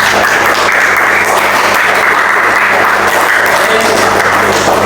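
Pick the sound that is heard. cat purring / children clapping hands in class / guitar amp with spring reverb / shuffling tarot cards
children clapping hands in class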